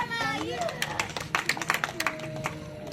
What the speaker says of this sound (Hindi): आदर्श के लिए तालियां